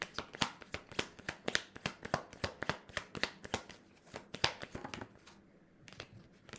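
Tarot cards shuffled in quick, crisp riffling bursts, a steady run of sharp flicks and slaps that stops briefly near the end, close and fairly quiet with no talk.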